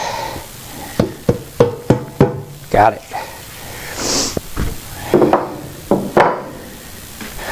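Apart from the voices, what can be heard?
hammering on engine part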